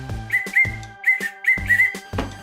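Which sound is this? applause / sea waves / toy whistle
toy whistle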